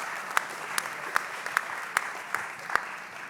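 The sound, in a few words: audience applause at book launch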